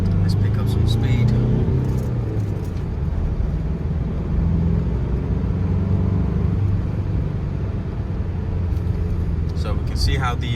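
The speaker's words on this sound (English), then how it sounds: "car gets onto the A1, picks up speed" A 2015 Mitsubishi L200 Challenger pickup with a 2.5-litre engine and 4x4 accelerating onto the A1, a loud low engine rumble and road roar rising as it picks up speed, with someone talking over it.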